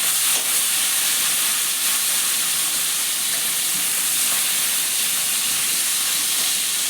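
Lentils frying in a hot pan for a dal, giving a loud, steady, unbroken sizzle and hiss that fills the whole stretch, with no voices.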